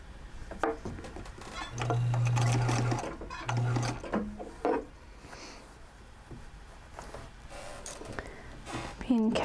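A sewing machine stitches fabric in two short bursts, a longer run and then a brief one, close by and fairly loud, with quiet talk and handling noises around it.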